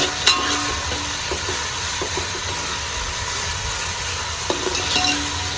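Onions frying in a pan for batata poha, with a steady sizzle and scattered light scraping clicks from a spoon stirring, near and moderately loud with no talking.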